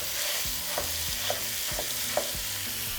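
Ground beef sautés with onion and hatch peppers in a pan, a continuous sizzle broken by rhythmic scraping stirs and a few light spatula clicks, close and without talk.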